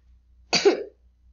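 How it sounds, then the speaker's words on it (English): One person coughs once, short and fairly close, in a single rough burst against a quiet background. "I'm kind of still coughing."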